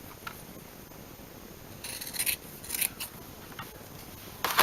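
Scissors snip through an old, hairy piece of felt in a few quiet, close cuts spread across the moment, with faint rustling in between and no one speaking.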